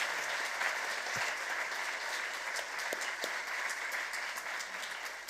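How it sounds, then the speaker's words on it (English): Applause from the audience at a women's weekend panel discussion, steady and fairly distant, with a continuous wash of clapping throughout and no voices on top. "Please, one applause."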